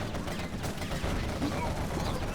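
Quad cannons in the strategy game C&C Generals Zero Hour, firing armour-piercing rounds, rattle off a continuous stream of muffled rapid shots in a busy battle, with a voice talking over the din.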